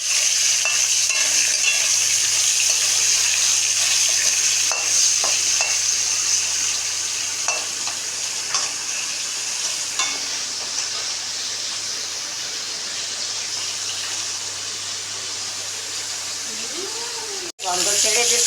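Jute leaves frying in a pan, a steady close sizzle with occasional stirring scrapes, fading slightly toward the end before a brief clatter.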